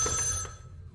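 A telephone bell rings in a film, one short bright burst that cuts off quickly and leaves a low hum behind.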